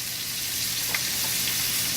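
Lobster américaine simmering in a pan, a steady close sizzling bubble with a few faint pops and no voices.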